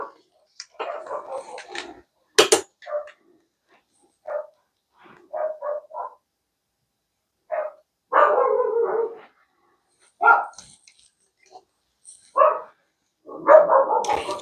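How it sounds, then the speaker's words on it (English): Dogs bark outdoors at a country home in repeated short bursts and clustered volleys, moderately loud and somewhat distant, with quiet pauses between the outbursts. "you can definitely hear my dogs barking."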